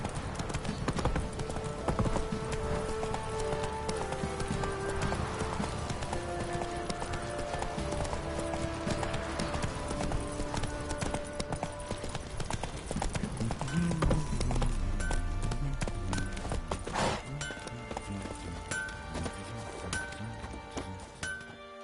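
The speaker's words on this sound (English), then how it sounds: "Run, Roach." In the video game The Witcher 3, a horse's hooves clip-clop in a steady galloping rhythm, layered over game music and ambient sounds, with a brief snort partway through.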